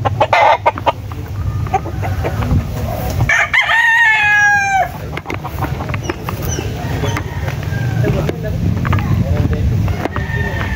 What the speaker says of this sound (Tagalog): Ito yung ibang broodcock nila mga kalaki.